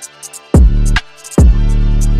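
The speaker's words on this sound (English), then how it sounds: "In context, the kick sounds like this." Two heavy electronic kick drum hits, each a deep booming thump that sustains briefly, with faint hi-hat ticks between them in a sparse beat.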